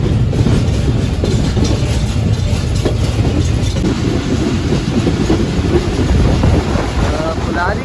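The 46DN Pakistan Express passenger train runs on rails near Kulari railway station, a steady loud rumble with faint clickety-clack of wheels and wind buffeting the microphone throughout, heard from on board.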